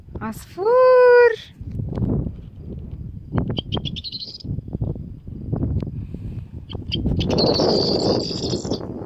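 A small bird chirps in Harbata, Lebanon, giving a loud, close, rising warbled call, then thin high chirps, while people talk over it throughout and the chirping returns near the end.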